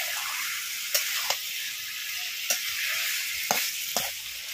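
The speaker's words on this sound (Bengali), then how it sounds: "মাংসটা সব মশলা দিয়ে দিয়েছি, এখন একটু সময় নিয়ে ভালো করে কষিয়ে নেব।" Desi chicken meat frying with spices in a pan, a soft steady sizzle with a handful of sharp clicks from stirring scattered through, fairly quiet.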